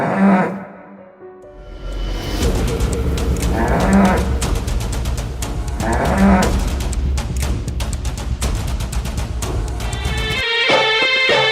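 A cow runs off in a village folk-play staging, mooing loudly in several long, drawn-out calls over a continuous background din, with brief quieter gaps between bellows.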